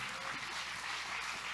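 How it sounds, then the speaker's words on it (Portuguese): A church congregation applauds during a communion service, a faint, dense wash of clapping heard from a distance with little else over it. "aplauda bem forte ao Senhor"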